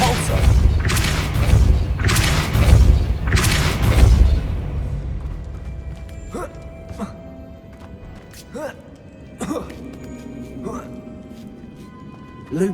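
A Depulso spell cast in Hogwarts Legacy hits with several heavy booming thumps in quick succession. Lighter chiming pings follow and trail off, with a voice speaking over the effects.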